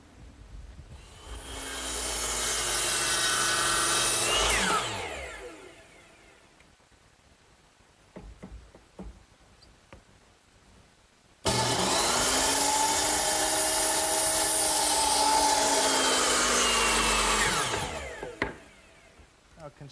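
A power saw cuts wood at an 8-degree angle for a garden swing in two long, loud whining cuts, each spinning up and winding down, with a quieter stretch of small knocks between them.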